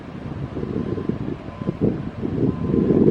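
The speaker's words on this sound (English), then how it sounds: "right now there's wind kicking up" Gusty wind buffeting the microphone outdoors near the Holy Fire wildfire at Lake Elsinore, California, a low rumbling roar rising and falling in uneven gusts that swell louder toward the end.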